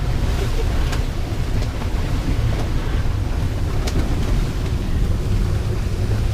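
Sailboat under sail with the engine off, pounding through waves off the Exumas, with a constant loud rush of wind and water and occasional sharp slaps of spray across the whole stretch.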